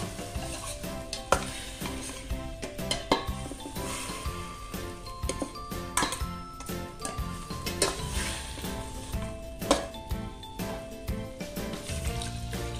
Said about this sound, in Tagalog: Saka haluin lamang po natin ito.